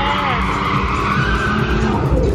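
A drifting car skids continuously, its tires squealing in a sustained, loud screech with engine roar beneath, steady throughout at close range.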